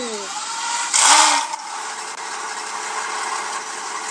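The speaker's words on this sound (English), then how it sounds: "Engines are fired." A NASCAR Sprint Cup race car engine in a video game roars to life with a loud revving burst, then settles into a steady mechanical idle hum.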